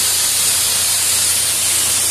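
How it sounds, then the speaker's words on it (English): A steady, loud water spray hisses continuously and close up while rinsing a K&N high-performance air filter, with no talking. "Just lightly spray over it like this."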